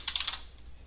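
A short, quiet burst of computer keyboard typing, a quick run of soft key clicks as a URL is entered into a web browser, followed by near silence.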